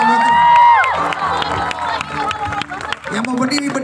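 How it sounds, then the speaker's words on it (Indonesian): A church congregation applauding and cheering during a sermon, a loud crowd roar with shouts and clapping that swells early and continues, with voices calling out over it. "Berikan tepuk tangan yang meriah buat Tuhan."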